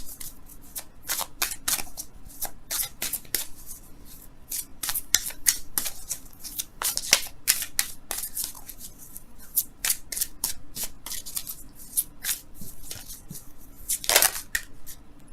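Angel tarot cards shuffled by hand for a long stretch, with rapid crisp slaps and riffles in uneven bursts, close and clear with no voices.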